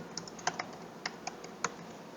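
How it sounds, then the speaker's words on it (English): Keys clack on a computer keyboard in a quick, uneven run of separate crisp taps, close and fairly quiet with no one speaking. "I am typing my name."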